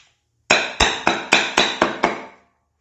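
Seven sharp, evenly spaced chops of a multitool hatchet biting into hard wood with a nail in it, loud and close, each strike ringing briefly before the next, with no talk.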